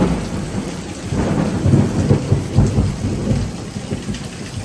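Heavy wind-blown rain pours steadily during a severe thunderstorm with 30 mph gusts, a dense roar broken by low rolling thunder rumbling close by.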